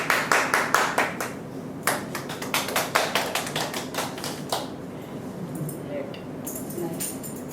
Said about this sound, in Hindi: प्रभु का तालियों से स्वागत करते हैं